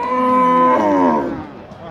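A cow at a cattle fair gives one loud, close, drawn-out moo that rises and then falls away over about two seconds.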